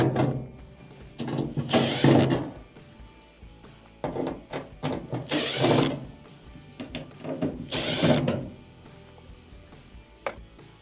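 Phillips screws are being backed out of the rear panel of an LG washing machine, producing a few bursts of close scraping and clicking with pauses between them.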